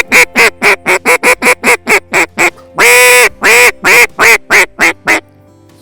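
A duck call blown to imitate a lonesome hen: a loud, close run of rapid rhythmic quacks, then one long drawn-out note, then several more evenly spaced quacks.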